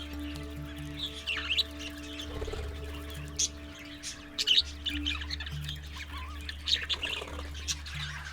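Budgies chirp and squawk in an indoor aviary, a steady scatter of small, quick calls at moderate distance over a low constant hum, with a few sharper squawks standing out.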